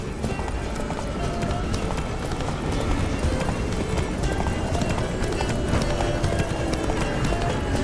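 Hooves of Geralt's horse Roach pound in a fast, continuous galloping rhythm in The Witcher 3, loud and close, backed by a dense game soundscape with voices talking over it.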